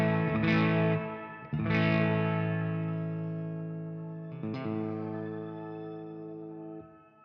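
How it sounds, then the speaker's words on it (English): Sustained electric guitar chords through a TC Electronic Plethora X1 pedal's shimmer reverb swell with a bright, shimmering tail that hangs and slowly fades, with three distinct strums and no voices. "it's keeping my shimmer effect inside this reverb"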